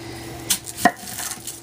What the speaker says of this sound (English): next we're going to chop an onion